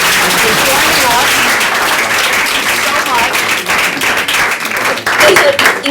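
An audience at a panel discussion on the Arab press gives a dense, loud round of applause, with voices talking through the clapping.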